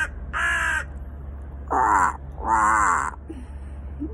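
A crow caws from a rooftop in Tel Aviv: three loud, close, harsh calls separated by short pauses, with a steady low hum underneath.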